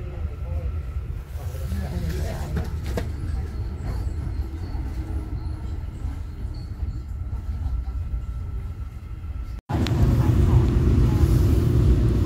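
Train rumbling at a railway station in South Korea, a steady low roar with wheel and carriage noise. The sound breaks off briefly, then returns louder and closer, with voices faintly audible.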